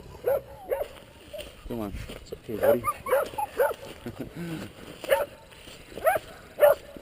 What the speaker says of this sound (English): It's a pack of dogs.